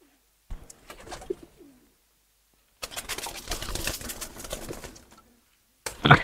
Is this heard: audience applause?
no